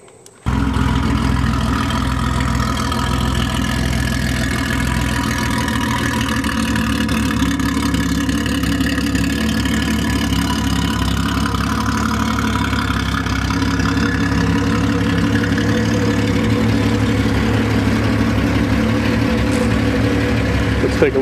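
A Datsun 240Z with an F54 block fires up after a brief starter crank, then settles into a steady, rumbling idle close by with slight throttle variations.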